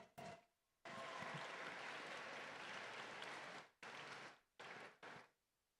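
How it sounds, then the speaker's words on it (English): An audience applauds at the OFA 2023 closing event to welcome the team Code Tenderloin, with a short clap, then one long sustained round, followed by two brief bursts that cut off abruptly. "Round of applause for Code Tenderloin."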